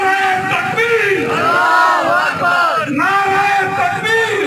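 At an outdoor unity rally for the Prophet's birthday, a large crowd roars a slogan back in unison, a loud, sustained swell of many voices that peaks, dips briefly and rises again.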